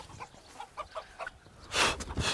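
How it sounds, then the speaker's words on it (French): Chickens and roosters on a farm raising cocks for fly-tying feathers, with a few soft clucks and calls followed by a louder burst of fowl noise near the end, heard fairly close and without any talk. "là ici il y a coq et poule, je vais les faire sortir après"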